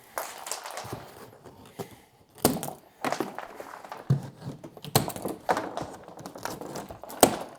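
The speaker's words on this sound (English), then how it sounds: "I use this kind of like hose cutter for rubber hoses." A hose cutter snips through plastic shipping straps on an electric dirt bike's box, giving a series of sharp, close snaps and thunks with crinkling plastic between them, irregular and unaccompanied by talk.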